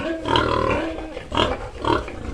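Pigs grunting and squealing up close, several loud bursts over a steady low rumble of background noise.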